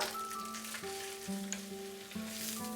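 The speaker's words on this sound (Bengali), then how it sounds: "রুটিটাকে একটু ফ্রাই করে নিচ্ছি মিডিয়াম আঁচে" Leftover roti fries in white oil on a tawa over medium heat, giving a soft, continuous sizzle under a steady tonal melody, with no one talking.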